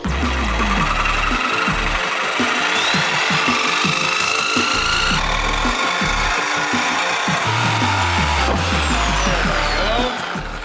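A power tool cuts through a marked part on a BMW M340i, close and loud, a steady grinding and rasping drone with shifting pitch that runs almost without a break for about ten seconds.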